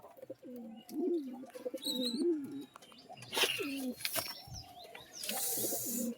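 Pigeons in a loft coo in repeated warbling bursts, several rolling calls with short gaps between them, fairly faint, with a few sharper chirps mixed in.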